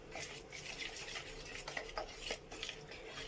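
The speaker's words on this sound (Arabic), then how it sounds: "صافي نخلطاتو كلشي مزيان" A spoon stirs chicken shawarma marinade with oil in a bowl, giving steady, close scraping and swishing with a few light clinks against the dish, quiet and continuous without talk.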